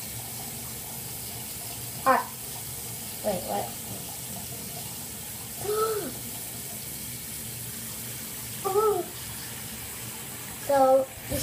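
A tap fills a bathtub with a constant, loud, even gush of running water throughout, while a person speaks briefly several times over it.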